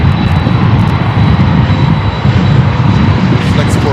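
A Flexport cargo jet taxis at Chicago O'Hare, its engines producing a loud, steady, close roar with a thin high whine on top.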